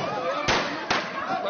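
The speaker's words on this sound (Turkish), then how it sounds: "Havai fişek bataryasından adeta ok gibi fırlayan havai fişekler bir o yana bir bu yana saçıldı." Two sharp, loud pops about half a second apart, from fireworks shooting out of a fireworks battery at a wedding, heard over a noisy background.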